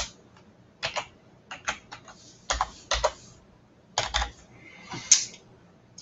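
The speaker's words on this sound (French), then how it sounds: "Puis, on écrit notre mot de passe." A password typed on a computer keyboard: scattered bursts of close key clicks in short irregular clusters, with quiet pauses between them and no talking.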